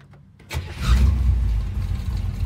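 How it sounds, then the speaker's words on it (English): A 1957 Chevrolet Bel Air with automatic transmission cold-starts: a brief cranking, then the engine catches with a loud low rumble and settles into a steady, close idle. "We'll do a cold start."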